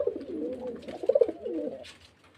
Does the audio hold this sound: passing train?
no